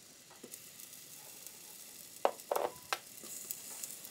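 Onion frying in a pan for rabbit with pepper gives a soft, steady sizzle throughout, with a few sharper crackles and light stirring clicks in the middle.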